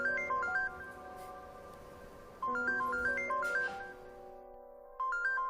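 A telephone rings with a melodic electronic ringtone, a quick rising-and-falling note pattern that repeats three times with pauses between, fairly faint and with no voices over it.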